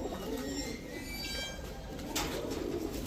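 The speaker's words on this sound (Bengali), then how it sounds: "ছাড়াছাড়ি ব্লাড লাইনের একটা বাঘা মাদি কবুতর" A female racing pigeon of a flying bloodline coos softly, a low rolling murmur over a faint airy background, alone without speech.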